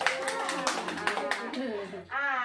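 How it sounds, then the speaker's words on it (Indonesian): Participants at a stunting-prevention training session clap for Ibu Yeni, giving a steady run of fairly close claps that fades out before a voice starts speaking. "Kasihlah tepuk tangan ibu Yeni"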